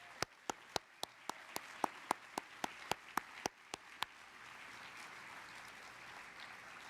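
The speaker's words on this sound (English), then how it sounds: "How about we give them all a round of applause?" Rhythmic unison clapping from an audience at a union leaders' speech, about fifteen sharp, evenly spaced claps over a bed of softer applause that carries on after the beat stops.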